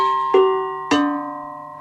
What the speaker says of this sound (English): we've got some Almglocken, which are Swiss-tuned cowbells